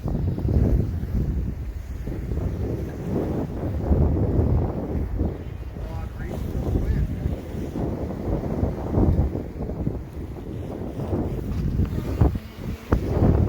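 Steady wind buffeting on a sailboat moving through roughly 14 knots of breeze on a warm day, a continuous low rumble of gusts and water under the boat, with brief talk mixed in.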